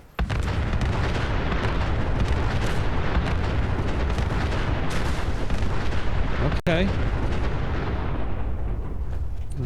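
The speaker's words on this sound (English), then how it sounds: "Lots of explosions." Robots blowing up in Fallout 4 gameplay: a dense, continuous roar of explosions and gunfire-like blasts fills nearly ten seconds at high level, with a sharp dropout near the end and a brief spoken word.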